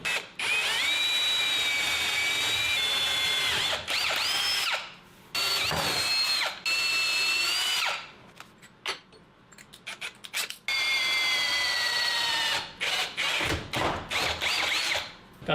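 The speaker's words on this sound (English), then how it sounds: "start with a brad point bit to help me keep the hole nice and straight" A power drill fitted with a brad point bit boring a hole in a table saw extension wing setup, a loud high whine in several long bursts with pitch dips and short gaps between, close up and without talk.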